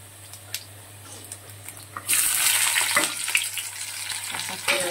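Whole cumin seeds hit hot oil for a katla fish head dish, with a quiet start and then a sudden loud sizzle that keeps crackling up close, with faint stirring ticks.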